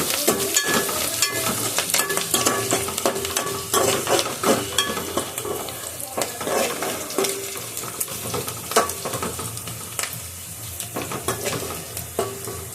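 Chopped onions frying in a pan on the stove, with steady sizzling and repeated scraping stirs of a utensil against the pan, close and continuous, without talk.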